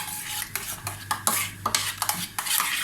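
A spoon stirs dried mint into a pot of Black Sea style corn soup, scraping and swishing through the liquid in quick irregular strokes with small clinks against the pot, close and fairly loud, with no talking.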